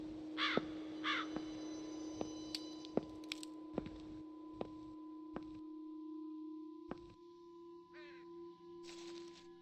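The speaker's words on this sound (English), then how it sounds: "Large black crows are watching me." Large black crows cawing in the video game The Lost Crown, several short harsh calls spaced apart over a steady humming tone and occasional clicks, fairly close and alone with no talk.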